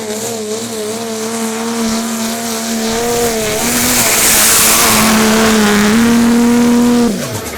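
A 2006 Dodge diesel truck running nitrous roars through a truck pull, its engine droning loud and steady with shifting pitch, swelling mid-run and then winding down near the end.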